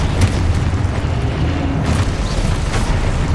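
Confringo fire spell explosions in the Hogwarts Legacy video game, a loud, continuous rumbling boom with bursts of blast noise throughout, no talk.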